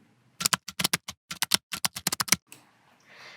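A rapid burst of roughly fifteen crisp key presses on a computer keyboard, Alt and Tab keyboard shortcut keys struck close and loud in an irregular rhythm, followed by quiet room noise and a faint hiss.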